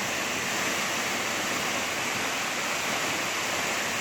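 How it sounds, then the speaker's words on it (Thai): Jok Kradin waterfall in a cool valley in Thong Pha Phum, Kanchanaburi, pouring down from the hills: a dense, steady roar of falling water, loud and close, with no other sounds. "น้ำตกไหลจากหุบเขาลงมา"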